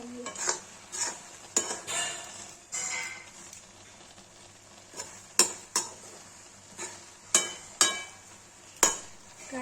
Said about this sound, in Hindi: अब इसको 10 मिनट तक भूनेंगे जब तक चीनी डाल के सूख हो जाए।